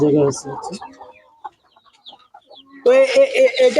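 A desi hen clucks among her chicks. Short clucks come in bursts, with a brief quiet gap in the middle, and a louder run of calls closes the clip, with people talking nearby.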